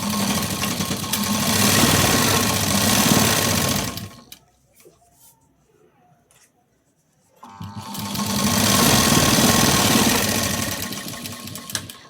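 Sewing machine top-stitching a buttonhole placket, running loud and steady for about four seconds, stopping for roughly three seconds of near silence, then whirring back up at the same pace.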